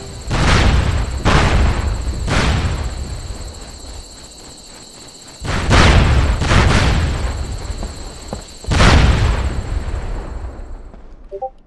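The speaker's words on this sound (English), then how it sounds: "Grenade!" Several loud grenade and gunfire blasts in SOCOM Combined Assault hit in heavy booming bursts, spaced a second or two apart with a longer gap midway, over a faint steady high whine.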